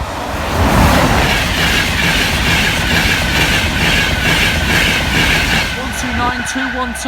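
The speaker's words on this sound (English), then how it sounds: "it's probably train 101" A train rolls past a rural level crossing, loud and close, a continuous rumbling roar with rhythmic wheel clatter and faint high squeals that fades slightly near the end.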